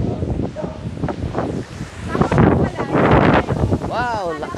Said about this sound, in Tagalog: Tapos wala naman siyang ulan eh, di ba? Wala, hangin lang eh,